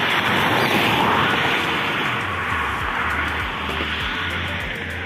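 A car rushes past at speed on the Yamuna Expressway near Agra, a loud, steady broadband whoosh of road and wind noise with low tire rumble, no talking over it.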